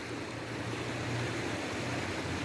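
River water flows steadily below Mossyrock Dam in Washington, a constant broadband rush with a low rumble, continuous and unbroken throughout.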